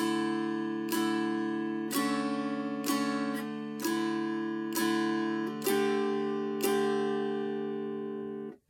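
A mountain dulcimer plays a slow, steady melody alone, each plucked note ringing over a sustained drone, about one strum per second.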